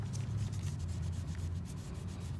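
An alcohol swab rubs across a curb-scuffed 18-inch Tesla Model 3 alloy wheel during a repair. Continuous close scrubbing and rubbing, steady and fairly quiet, runs over a low background hum with no talking.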